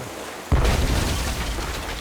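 A cannon blast from the Tales of Monkey Island video game: one sudden loud boom at about half a second, then a long rumbling roar that stays loud to the end.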